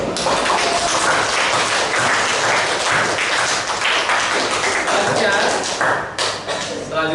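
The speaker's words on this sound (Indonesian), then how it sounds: "Sekarang ini berikan tepuk tangan untuk kita semua." Audience applause in a classroom during a teacher's performance assessment lesson, dense steady clapping filling the whole stretch at a loud, even level, with a brief dip near the end.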